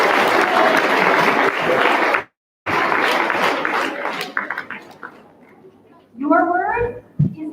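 Dense clapping from a spelling bee audience applauding themselves breaks off abruptly, then scattered claps trail away before a voice speaks near the end.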